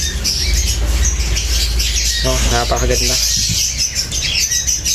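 Birds squawk from inside a transport box, giving a brief harsh call amid steady broadband noise, while a person speaks nearby.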